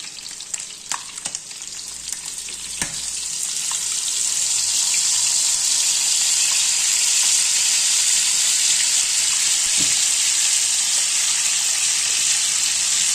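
Yogurt mixture poured over chicken on a hot tawa, a faint sizzle that swells after about three seconds into a loud, steady hiss and crackle that holds to the end.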